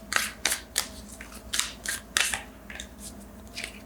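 Quick, crisp riffling and snapping bursts of cards being shuffled, repeated several times in an uneven rhythm, close and fairly quiet.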